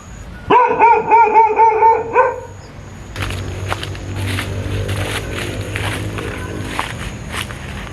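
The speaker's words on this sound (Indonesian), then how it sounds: "anjing yang tadi yang menggonggong ketika saya sedang berbicara" A dog barks in a quick run of about six loud, close barks, then footsteps and rustling movement follow near a house being demolished in Labuan Bajo.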